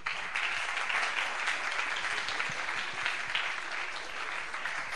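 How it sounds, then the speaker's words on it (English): Steady audience applause at a game development awards ceremony, many hands clapping in a dense continuous roar for the full stretch, with no talking over it. "Big applause for them."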